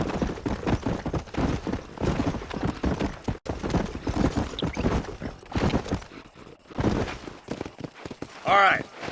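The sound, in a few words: horses galloping in Red Dead Redemption video game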